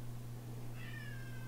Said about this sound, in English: You hush, cat.